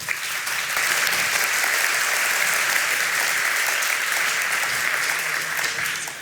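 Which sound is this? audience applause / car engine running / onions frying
audience applause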